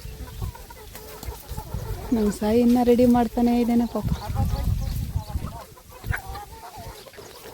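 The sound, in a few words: chickens clucking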